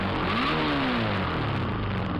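A Suzuki Across motorcycle engine, freshly fitted with a cleaned carburetor, revs up and back down in one loud, close sweep with a rough mechanical roar and no talk.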